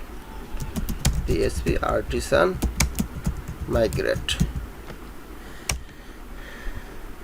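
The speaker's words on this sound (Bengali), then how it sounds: "এখন আমি কমান্ড লিখবো পিএসপি আর্টিসান মাইগ্রেট" Typing a php artisan migrate command on a computer keyboard: scattered crisp key clicks in short bursts, heard under a voice talking throughout.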